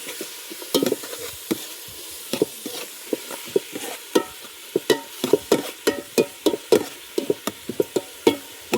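Onions sautéing in a pan for a Kerala village-style beef curry, with repeated sharp scraping stirs over a steady sizzle, close and fairly loud, and no voices.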